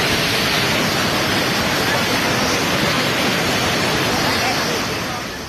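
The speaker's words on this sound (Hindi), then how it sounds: "नदी की खौफनाक रफ्तार और सैलाब की डराने वाली आवाज।" A flooded river in Tehri Garhwal, Uttarakhand, swollen by heavy rain, rushes past in a continuous, loud, close roar of churning water that stays steady throughout.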